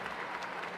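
A graduation audience at a Round Rock school district high school breaks into brief, steady clapping, a dense wash of hand claps heard alone for under a second.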